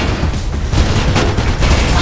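Heavy gunfire from an enemy's big gun in Mirror's Edge, a dense, loud, continuous barrage of booming shots with no pauses.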